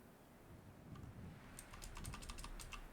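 Rapid typing on a computer keyboard while playing the PC game Dwarf Fortress: a run of close, crisp key clicks starting partway in, over a low steady room rumble.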